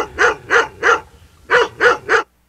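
A Rottweiler mixed with a native Filipino street dog barks six times, loud and close, in two evenly spaced bursts of three with a short pause between them.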